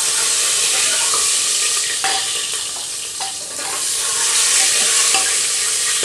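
Thinly sliced garlic cloves fry in hot oil in a pan for a quick dum aloo, a loud, dense and continuous sizzle that stays steady throughout with faint stirring underneath.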